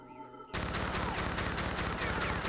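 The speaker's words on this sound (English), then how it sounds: "I don't know if I can shoot him from down here." Sustained gunfire from Munch's Oddysee starts abruptly after a quiet half second: a loud, dense, continuous barrage of rapid shots that rattles on without pause to the end.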